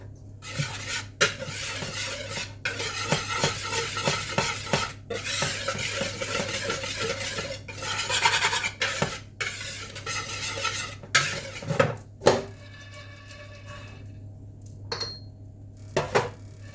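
Pine nuts toasting in a pan while a utensil stirs and scrapes them, giving a steady soft sizzle with repeated clinks and scrapes against the pan, close and fairly quiet.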